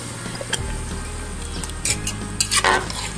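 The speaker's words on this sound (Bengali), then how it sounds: "ভিউয়ার্স আমি মাংসটা দিয়ে দিয়েছি এখন আমি মাংসটাকে কষিয়ে নিচ্ছি" Mutton for rezala sautéed in a pan, close-up sizzling with repeated stirring scrapes and metal clinks of a spoon against the pot.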